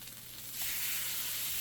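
Birria tacos fry in a hot pan, crisping into a steady, close sizzle that swells from a lighter hiss into a loud, constant crackle with no talking.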